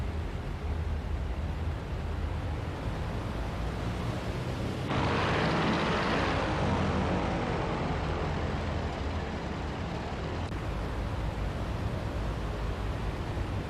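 A C-47 transport plane in the IL-2 flight simulator drones with steady, loud engine noise, a dense continuous roar that swells briefly in the middle before settling, with no speech.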